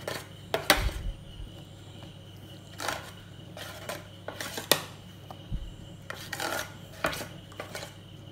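A spatula or utensil scrapes and taps against a bowl while whipped egg white and sugar mix is gently folded into cake batter with all-purpose flour, producing sparse, quiet scraping strokes and clinks with pauses between them.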